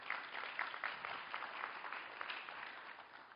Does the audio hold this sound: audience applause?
yes